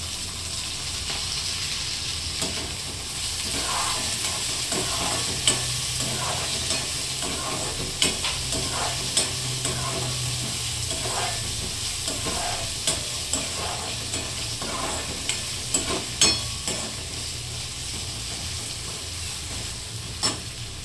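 Tomatoes sizzle in a pan for sev chutney while a spoon stirs them, a soft continuous frying hiss broken by repeated clinks and scrapes of the utensil against the pan.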